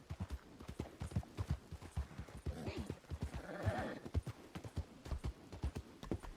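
Horse hooves clip-clop steadily in the video game WildRP, a continuous rhythmic clatter of hoofbeats at a moderate pace, with faint background murmur.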